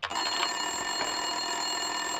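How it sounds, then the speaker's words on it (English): A desk telephone rings steadily in an office scene from the video game Max Payne 2, a continuous trilling ring at moderate loudness with no talk over it. "Winterson's phone was ringing."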